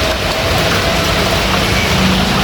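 Heavy rain pours outdoors, producing a loud, dense and unbroken roar of water that stays constant from start to finish with no voices.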